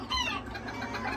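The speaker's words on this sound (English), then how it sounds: "This is our sport, little rooster" An Old English Game bantam rooster, a red sport, gives soft clucking calls close by over a steady background hum, a brief low murmur without speech.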